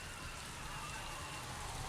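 Steady rain falling across a surface in a Mass Effect 3 multiplayer match, a continuous soft hiss with no breaks, alone and fairly faint throughout.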